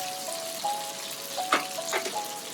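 Spring onion and shallots hitting melted butter in a pan, a soft sizzle with a few brief bursts of crackle as they are stirred in, close and fairly quiet.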